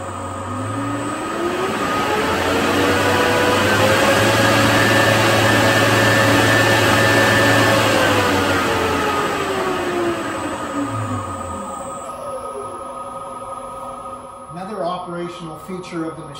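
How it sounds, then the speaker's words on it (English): A Beveler USA UZ30 Express beveling machine runs loud and close with a steady whine, its pitch rising and then falling as the cutter head speed is changed, before it winds down. "Here we'll turn the machine on and we'll adjust the cutter head speed and you can hear the difference."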